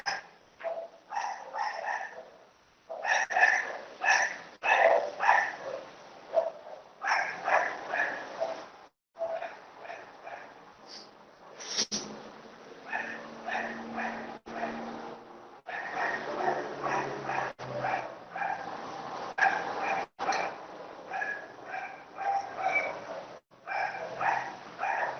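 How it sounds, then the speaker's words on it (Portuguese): Several dogs bark and yelp again and again in irregular bursts. The barking is sustained, moderately distant and fairly low in level. "quando as pessoas não piram são os cachorros."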